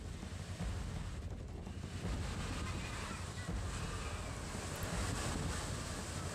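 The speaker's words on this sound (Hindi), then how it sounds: "समंदर, ऊंची ऊंची लहरें वहां पर उठनी शुरू हो गई, तेज हवाएं चलनी शुरू हो गई" Sea waves and strong winds from Cyclone Tauktae on the Gujarat coast near Amreli: a steady, heavy rush of surf and gusting wind buffeting the microphone throughout.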